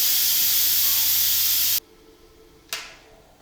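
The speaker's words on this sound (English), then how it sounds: "keeping my hand away from that steam release valve, and we're gonna let it" An Instant Pot's quick-release valve blasts steam while cooking spaghetti squash, a loud, steady hiss that cuts off abruptly partway through, followed by a brief final puff that fades.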